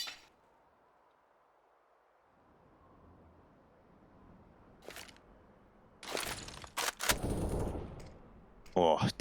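Gunfire in a CS:GO match on the Nuke map: after a near-silent stretch, sharp rifle shots crack out in several loud, close bursts, some in quick succession.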